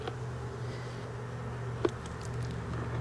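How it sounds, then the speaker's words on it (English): Honeybees hum around an open hive in a steady, faint drone with a low constant tone underneath, and a brief knock partway through. "Again, lots of bees."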